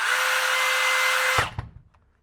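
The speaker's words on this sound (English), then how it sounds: "if I were to sit here and hold the drill" A Kobalt 24V right angle drill running at a steady high whine for just over a second, then cutting off abruptly and spinning down into near silence.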